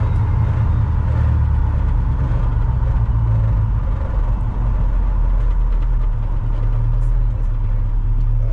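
A 1984 Chevrolet C10 pickup fitted with drop spindles and springs drives along with a steady, loud low engine drone and road rumble heard from inside, continuous throughout.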